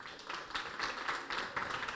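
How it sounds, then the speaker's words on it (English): An audience at a graduation event applauds, giving a dense continuous patter of many hands clapping at moderate loudness, with slight swells in intensity throughout. "Also a big round of applause to them."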